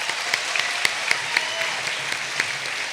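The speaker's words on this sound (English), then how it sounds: "Can we get one more round of applause for all our top scholars here?" Graduation audience applauding its top scholars: a steady wash of many hands clapping throughout, with a few sharper individual claps popping out above the crowd.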